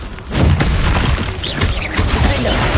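A Confringo spell explosion in the Hogwarts Legacy video game: a loud, close boom followed by rumbling, shattering crashes and a brief second burst, with no voices over it.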